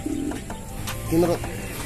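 A pigeon gives a soft, low coo, fairly close, over a steady background murmur with faint voices.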